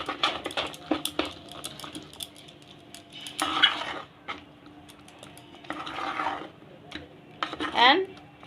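Thick ground urad dal and rice batter being stirred by hand with salt in a steel vessel, giving soft wet squelches and scraping clinks in irregular bursts, close and moderately loud, with no talking.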